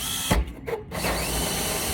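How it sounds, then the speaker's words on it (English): A power drill turns a hole saw cutting into a plastic rain barrel, a steady close, loud whirring grind with a brief dip in speed partway through. "be real careful with the hole saw, as it'll torque on you if you don't put enough pressure"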